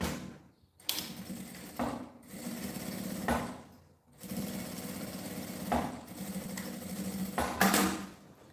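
A sewing machine stitches a luxury toiletry bag in bursts of rapid mechanical whirring, several runs of stitching separated by short pauses, close and fairly loud with no talk.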